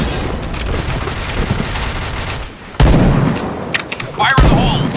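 Gunfire rattles in an online multiplayer shooter, followed by sharp grenade explosions that cut in loudly near the end, with brief bursts of voice chat over the battle noise.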